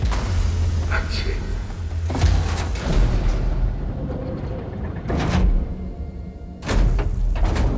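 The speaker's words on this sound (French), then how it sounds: "La porte est ouverte." A door opens in the Horizon Forbidden West video game, heard as broad thuds and sliding mechanical rushes at about 2, 5 and 6.7 seconds over steady game ambience, with faint talk beneath.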